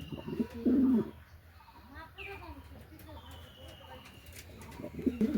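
Pigeons in a loft, including Mondian and checker birds kept in pairs with eggs and squabs, giving soft repeated coos nearby while a person talks over them.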